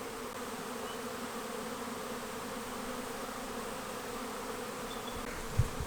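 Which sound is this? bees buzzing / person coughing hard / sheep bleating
bees buzzing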